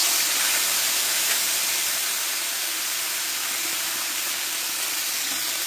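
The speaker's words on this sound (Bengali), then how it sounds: "এবার এই তেলে আমি দিয়ে দেব কালো জিরে ফোড়ন, আর এখানে আমি একটা পেঁয়াজ বেটে রেখেছিলাম, একটা টমেটো আমি দিয়ে দেবো।" Ground onion and tomato paste hitting hot oil tempered with nigella seeds, a steady, loud, broadband sizzle and hiss lasting throughout, with no talk.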